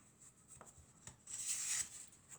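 A tarot card drawn from the deck: a faint, close rub and slide of card stock, swelling into a brief, brighter swish near the middle, with a couple of soft taps and no talk.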